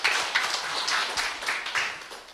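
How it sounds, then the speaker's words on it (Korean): Conference audience clapping in a hall, a loud, dense burst of applause with many hands striking at once, sustained and fairly close, with brief swells and no speech over it. "다시 한번 뜨거운 박수 부탁드립니다"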